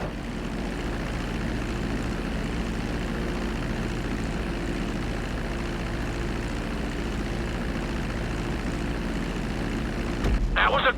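An aircraft engine drones steadily through flight in GTA 5, a dense constant roar at even loudness throughout, with a sharp game sound near the very end.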